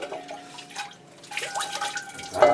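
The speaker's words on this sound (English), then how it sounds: "by pouring this amount of water over it, it does that anyway" Water is poured over a holey clay plant pot, giving light dripping and trickling splashes that build toward the end, close by and fairly quiet, with no talk.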